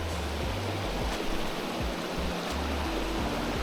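Clear water rushing steadily down a pristine hidden mountain stream, a continuous close broadband wash and gurgle with no voices over it.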